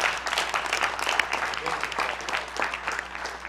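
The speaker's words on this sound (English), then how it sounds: "Who want to give him a hand clap?" A small church congregation claps steadily for a few seconds, a lively patter of hands with a voice faintly underneath.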